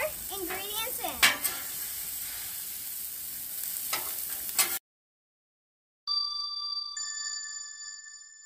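Jerky ingredients with salt and pepper being stirred and mixed on a Blackstone griddle, a steady close sizzle with scraping for several seconds, then a sudden drop to silence followed by clean electronic tones.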